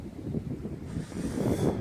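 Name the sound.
wind blowing outdoors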